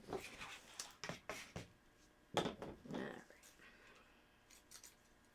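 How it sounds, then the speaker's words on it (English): Scissors snip out detail work on custom handmade magnets in a series of close, crisp cuts, several in quick clusters, quiet with faint background noise. "I think I can start doing the detail work with the scissors now"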